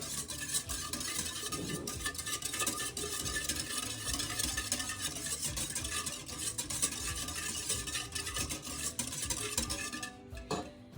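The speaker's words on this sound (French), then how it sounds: "la petite cuillère de sucre, ma levure chimique, je vais mélanger un petit peu." Sugar and baking powder being stirred together in a bowl with a spoon for pan-cooked batbout bread, a steady continuous scraping and rubbing close by that stops near the end, with no talking.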